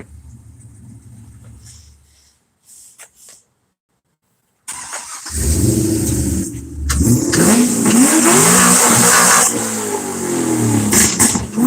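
Tuned car engine with a cam, starting up and revving hard with loud repeated backfire pops, close and alone after a short quiet gap.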